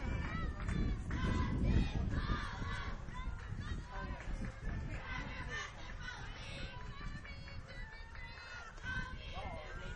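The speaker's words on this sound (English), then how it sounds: "Crowd getting into it." A college baseball crowd at an elimination game murmurs and cheers steadily throughout, busy chatter and voices swelling early then settling into a sustained hubbub.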